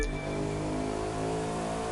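A W16 car engine revs loudly and steadily in The Crew 2 racing game, a dense droning roar with strong low harmonics that holds for about two seconds with no talk.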